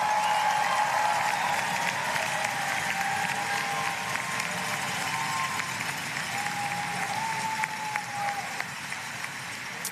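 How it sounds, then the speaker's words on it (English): A crowd applauds for master's degree recipients at a December university graduate commencement. The clapping forms a broad, steady wash across the full length and fades slightly toward the end, with no voices over it. "how about another round of applause for all of our master's degree recipients"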